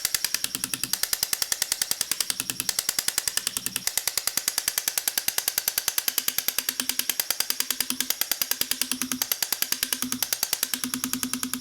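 Pendant motor with a hammer handpiece tapping rapidly and evenly on a gold bezel around a gem on a silver ring, a fast, close metallic buzzing rattle with a brief ringing tone that recurs.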